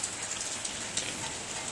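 Rain falling steadily on and around a porch in Oklahoma, a continuous close hiss of drops with scattered sharper patters, no voices.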